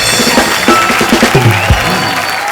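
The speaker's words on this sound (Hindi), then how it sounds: "एक बार रणबीर अनुष्का के लिए जोरदार तालियां।" A studio audience at a comedy talk show claps and cheers for two Bollywood film stars, with bright applause running throughout under loud voices and laughter from people on stage.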